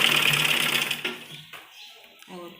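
Sewing machine stitching a baby frock, a close whirring run of rapid stitches that stops after about a second, followed by short bursts and a quiet voice speaking.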